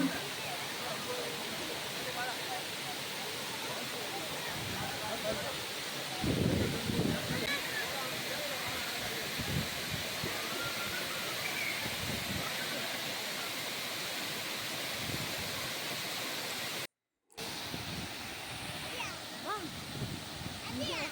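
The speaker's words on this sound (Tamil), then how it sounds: "ரொம்ப ஹைட்லேருந்து தண்ணி விழவும்." Steady roar of water falling from a great height at Jhari waterfalls, Chikmagalur, fills the whole recording, a constant broadband rush with brief louder bursts and a short dropout near the end.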